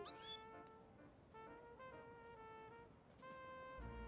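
Meowth, the cat Pokémon, meows in the Pokémon Legends Z-A video game: a run of several short, tonal, synthesized mews with bright harmonics, spaced out with small pauses over a steady game-music bed. No one talks.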